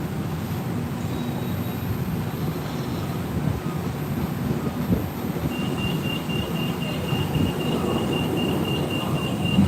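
Passenger train riding through Bangkok, a steady low rumble of wheels and carriage noise filling the whole stretch, with a faint whine rising partway through.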